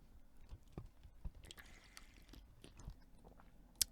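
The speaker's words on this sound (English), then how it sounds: "That was my water bottle." Drinking from a water bottle close by: quiet gulps, faint liquid sloshes and small mouth sounds in an irregular run, ending in a sharp click.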